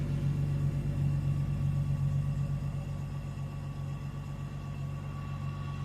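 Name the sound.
BMW E46 engine idling after automatic swap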